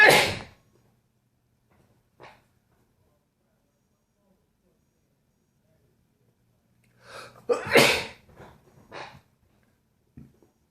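A sharp sneeze opens, then after a quiet stretch a second, louder sneeze comes with short vocal sounds around it, all close and without background noise.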